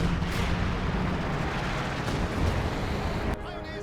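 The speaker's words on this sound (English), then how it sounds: "Look at all the explosions going off here." Artillery explosions in the Company of Heroes 2 battle, heard as a dense, continuous rumble of blasts that keeps up loud throughout and then cuts off sharply near the end.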